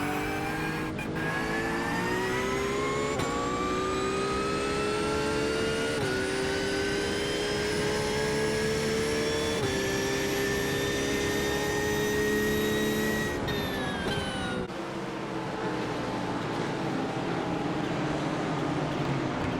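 Race car engines drone loudly and steadily during a rolling start at Sebring in a racing video game, a continuous pack of revving motors with pitch slowly rising, then a gear shift and a dip near the end.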